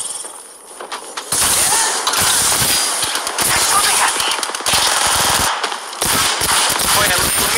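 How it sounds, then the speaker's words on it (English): Gunfire rings out in the video game Apex Legends. It comes as loud, rapid automatic bursts and sharp shots that keep going for several seconds, with short pauses between volleys. "It's a bunch of gunfire."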